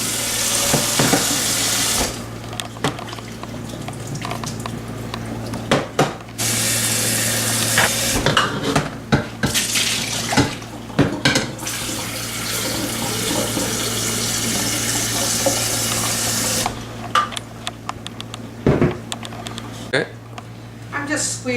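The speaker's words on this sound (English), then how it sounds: "I like to rinse it just because sometimes they go foamy" Running tap water pours steadily into a sink for long stretches, rinsing ground sweet peppers, with occasional clatter and handling noises between bursts of flow.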